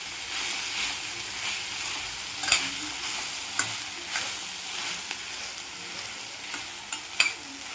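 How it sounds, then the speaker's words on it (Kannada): Coriander leaves and masala spices fry and get stirred in a pan for a Malnad-style mutton dish: a steady close sizzle with repeated scraping strokes and a few sharper clinks, and no voices. "ಇದನ್ನು ಚೆನ್ನಾಗಿ ಫ್ರೈ ಮಾಡ್ಕೊತೇನೆ. ಈಗ ಚೆನ್ನಾಗಿ ಮಿಕ್ಸ್ ಮಾಡೋಣ."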